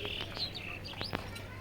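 Pigeons and doves call in a pigeon loft, with faint chirps and short tweets scattered over a low background, soft and somewhat distant.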